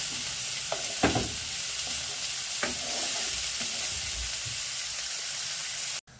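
Onion and carrot sweating in a pan for lasagne make a loud, steady sizzle with a few stirring scrapes, and the sound cuts off abruptly near the end.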